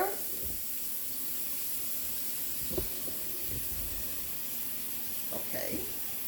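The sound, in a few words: sink filling with water to wash collard greens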